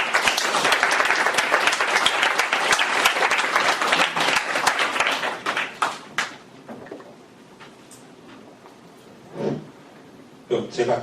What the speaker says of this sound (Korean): 시민 여러분 큰 박수 부탁드립니다.